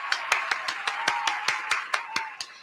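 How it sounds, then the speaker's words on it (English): Roughly a dozen sharp, evenly spaced claps ring out in a quick steady rhythm, close and distinct against near silence, sounding like a single person clapping rather than a large crowd. "Give yourselves a huge round of applause"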